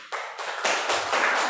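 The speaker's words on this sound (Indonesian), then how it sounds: "beri tepuk tangan dulu." A classroom of students clapping hands together, a close, loud burst of clapping swelling in three quick waves over a short stretch.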